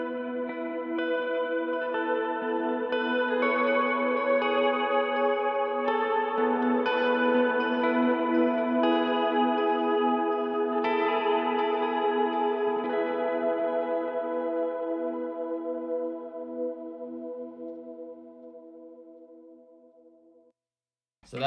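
A Strymon Big Sky reverb pedal on its bowing setting gives a lush, swelling wash of sustained, chorused tones that keep blooming and layering, then slowly decay over about twenty seconds before a brief cutoff and a final click.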